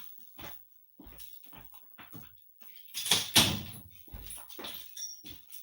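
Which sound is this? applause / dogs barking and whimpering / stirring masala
dogs barking and whimpering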